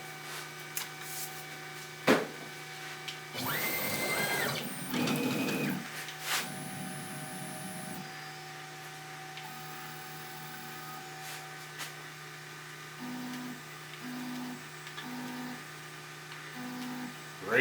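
A CNC router moving its Z axis to re-zero during a Jazzmaster Thinline guitar body build, with whirring motor bursts and stepping tones over a steady electrical hum, followed by short regular pulses.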